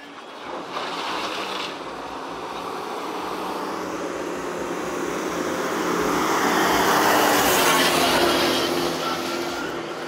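Cars driving past on a road, a broad rushing swell of traffic noise that builds toward the middle and fades slightly, heard at moderate distance without clear speech.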